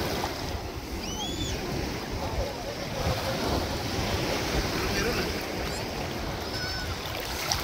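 Strong surf rolls in at Virginia Beach as a constant roaring wash of waves and wind noise, loud and steady throughout, with faint voices underneath.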